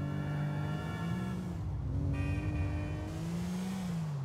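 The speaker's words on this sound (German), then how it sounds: "Ich nehme jetzt zum Beispiel den Komet und wenn ich damit jetzt rumfahre," Komet sports car driving in GTA IV, engine droning steadily and close with shifting pitch as it revs up and eases off, alone with no talk.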